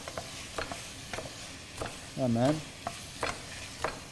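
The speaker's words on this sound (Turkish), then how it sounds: "Etlerimiz pişiyor. Bol soğanla." Meat frying with plenty of onions in a pan for an Anatolian dish: a steady sizzle broken by regular scraping stirs, with a short spoken word partway through.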